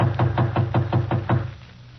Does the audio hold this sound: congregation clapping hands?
no